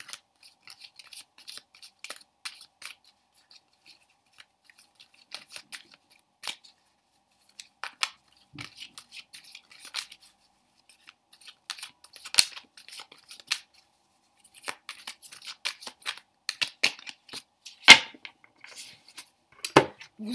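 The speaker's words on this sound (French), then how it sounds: "Vous mélangez vos cartes" Tarot cards being shuffled by hand, a light, soft patter of sparse card flicks and riffles continuing irregularly over a quiet background, close but faint.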